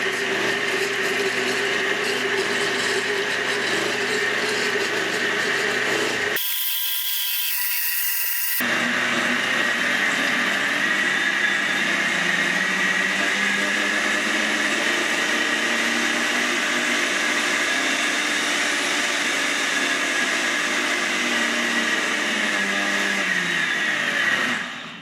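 A HAUSWIRT 1200 W blender with eight blades running steadily, mixing batter with melted butter; a loud continuous whirring drone fills most of the stretch, briefly cutting out and then resuming.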